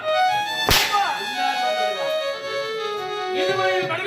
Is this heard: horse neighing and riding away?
no